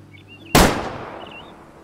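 A single long-range hunting rifle shot in the Way of the Hunter game while chamois hunting: one loud, sharp crack with a rolling echo that fades over about a second.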